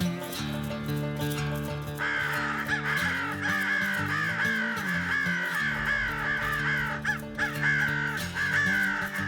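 Several crows caw repeatedly and loudly, their harsh calls overlapping in a steady stream against a droning background.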